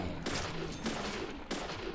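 Game gunfire in Deadly Premonition, three dense bursts of shooting over a steady background din, loud and close, with no talk.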